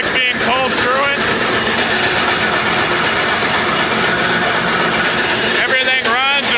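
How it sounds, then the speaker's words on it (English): In-feed auger of a NECO rotary grain cleaner running empty with no grain, a loud steady mechanical drone with brief squeaky, rising tonal sounds at the start and end. "Here you can see the in-feed auger running."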